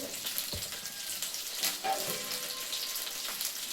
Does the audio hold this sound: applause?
no